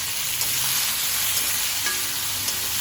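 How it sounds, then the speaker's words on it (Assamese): Chopped tomatoes fry in a hot pan for a home-cooked greens and fish dish, giving a steady, close, even sizzle that holds without pause, with no voices. "বিলাহীখিনিও ভালকৈ ভাজি ল'ম।"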